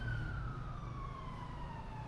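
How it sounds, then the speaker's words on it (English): A siren wails on a busy Mexico City street, its tone sliding slowly downward, over a steady, loud rumble of passing traffic and general city bustle. "As you can hear, there's sirens, there's traffic noise, there's a hustle and bustle of the city."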